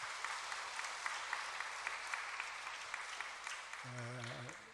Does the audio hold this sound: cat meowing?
no